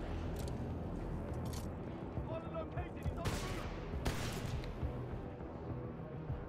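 Enemy gunfire in Titanfall 2: scattered bursts and single shots, fairly distant and mixed under a continuous bed of game noise and a talking voice.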